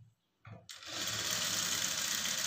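Sewing machine stitching the front piece of a blouse, joining the armhole and centre dots: after a brief pause a steady, fast whirring motor hum starts and runs continuously at close range.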